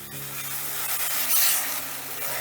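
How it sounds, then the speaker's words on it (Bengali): Ginger-garlic spice paste frying in a pan for soybean masoor dal, a continuous close sizzle with soft rubbing strokes of a spatula, steady and moderately loud, with no one speaking. "এবার এই মশলাটা তো বেশ ভালো করে কষিয়ে নেব"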